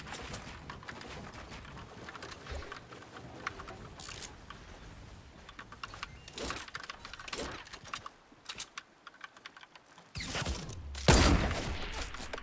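Gunfire in Fortnite crackles in scattered sharp bursts, some coming from behind, with a loud cluster of shots near the end of a busy battle-royale skirmish.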